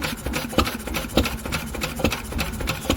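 A Lister stationary engine with magneto ignition runs steadily nearby, a loud, even chugging beat with mechanical clatter and no voices.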